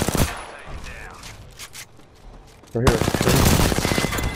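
Video-game gunfire in the shooter Conduit: scattered shots early, then a loud, dense rapid burst of automatic fire over the final second and a half, with a player talking briefly.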